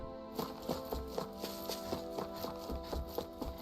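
Steady, evenly spaced hoofbeats of a horse in the Tales of Arise video game clip-clop at a trotting pace, faint and under a bed of game music.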